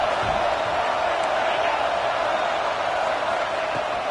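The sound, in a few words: home crowd cheering at a football game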